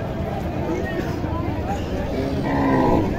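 An Indian bullock at a busy Naogaon cattle market gives a short low moo near the end, set against a steady hubbub of crowd voices and market noise.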